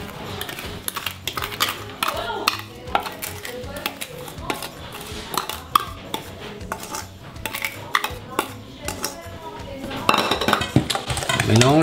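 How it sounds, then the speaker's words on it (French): Homemade praliné and dark chocolate are stirred together in a bowl: quick, busy clinks and scrapes of a utensil against the sides, close and continuous, getting louder near the end, with a voice now and then. "on va tout simplement mélanger les deux éléments"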